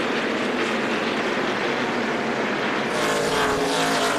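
NASCAR stock cars racing during the 2003 Subway 500 give off a steady, loud, blended engine roar that swells slightly toward the end as the pack passes close by.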